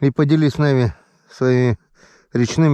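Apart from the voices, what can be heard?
None of the usual background noises is heard.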